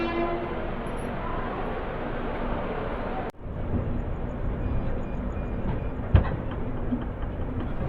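Secunderabad Garib Rath express 12736 running after leaving Guntakal station, heard as a steady, loud onboard rumble with one sudden clunk midway and a brief knock later. No one speaks.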